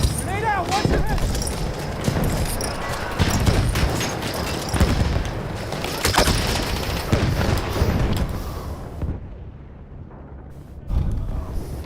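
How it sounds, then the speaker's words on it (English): A grenade blast in the shooter game Battlefield 1 booms through dense gunfire and battle noise, loud and close among several bursts, with a voice talking over the fight. "Lobbing grenade! Grenade out! Watch your head!"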